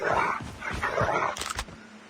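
Several dogs bark and yip in a battle royale video game, a rapid run of close, loud barks with a brief whimper and a higher yelp near the end.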